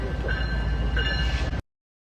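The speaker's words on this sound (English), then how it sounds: "A Brightline train is coming through slowly through this scene." A Brightline train rumbles past slowly with a low, continuous rolling noise and faint wheel squeals, then the sound cuts off abruptly.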